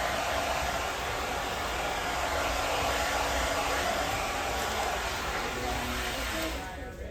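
A hair dryer blows in a loud, steady whoosh close by during a round brush blow dry, running continuously before easing off at the very end.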